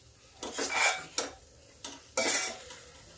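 Whole broad beans stir-fried in a pan, with four separate bursts of scraping and clattering from a utensil against the pan between quiet pauses, faint sizzling underneath and no talk.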